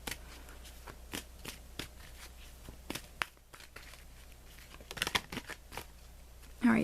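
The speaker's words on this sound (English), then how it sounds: "Let me draw you an additional card." Tarot cards being shuffled close by, a quick run of crisp, papery riffles and taps repeating over several seconds, quiet and unaccompanied by talk.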